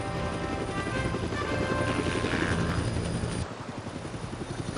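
A helicopter flies over a river valley, its rotor chop and engine drone loud and steady, shifting and easing slightly near the end, with no talk.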